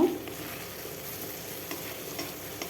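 Pomfret fish coated in mustard-poppy paste with chili powder and a little sugar fries quietly in oil, a soft even sizzle with a few faint stirring touches, fairly distant and with no speech.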